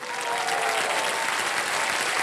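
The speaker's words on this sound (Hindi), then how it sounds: "ताली बज जाए" Studio audience on a Hindi TV quiz show bursts into sustained, dense applause, loud and steady throughout with a faint crowd murmur beneath, no voices.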